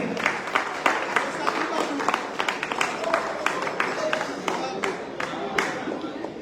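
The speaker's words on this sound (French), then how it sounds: "Pour vos applaudissements s'il vous plaît" Scattered, moderate clapping from guests at a Sacré-Coeur parish 10th-anniversary gala evening, individual hand claps distinct and uneven rather than a dense roar, heard at a modest distance.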